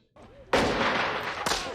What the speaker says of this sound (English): The kid only got firecrackers on him.